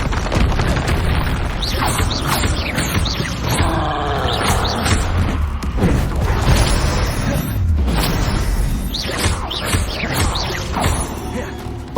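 Bombarda and Confringo spells exploding in Hogwarts Legacy: steady, loud booms and crunching blasts overlap one another without a break, with a few mechanical clanks mixed in.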